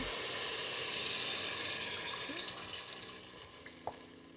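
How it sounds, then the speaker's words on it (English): Stock ladled into a hot pan as the base for an Asian-style mushroom soup with lamb shanks gives a steady hissing sizzle and liquid splash that slowly fades, with no talking. "I'm going to ladle some of the stock in"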